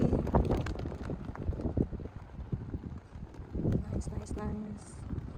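Strong gusting wind roars and buffets the microphone nonstop near a bridge in Mindanao, Philippines, while people talk underneath it.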